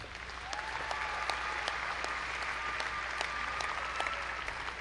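A large audience at a fall university commencement ceremony applauds the graduates with steady, even clapping that holds at a constant level throughout, over a low hall hum.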